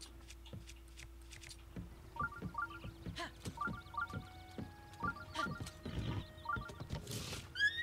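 Horse in Zelda: Breath of the Wild giving a few whinnying neighs over a soft, uneven clip-clop of hooves, with game music tones in the background.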